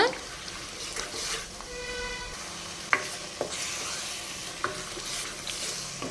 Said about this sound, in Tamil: நல்லா மிக்ஸ் பண்ணி மிக்ஸ் பண்ணி நல்லா சுருளை வதக்கிக்கலாம்